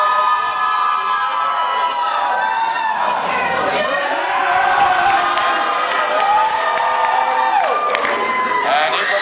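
A game show studio audience cheers loudly and continuously, with whoops, shouts and clapping blending into a dense roar that holds for the whole stretch, with a voice briefly audible within it.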